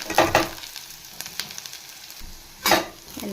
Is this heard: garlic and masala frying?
yes